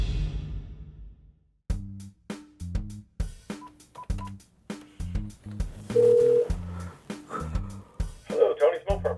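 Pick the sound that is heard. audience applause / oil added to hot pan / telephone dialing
telephone dialing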